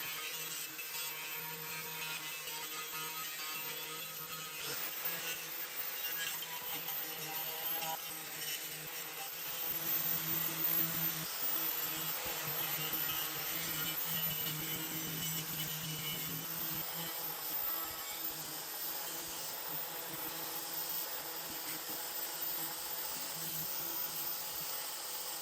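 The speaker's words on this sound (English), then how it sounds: "I'm just going to use a wire wheel on the grinder to clean this up and try and get rid of as much of the rust as possible." A wire wheel on an angle grinder scrubs rust from the flywheel of a Hayter Harrier 41 lawnmower, giving a steady, loud, hissing abrasive whir that carries on unbroken for the whole stretch with slight swells in intensity.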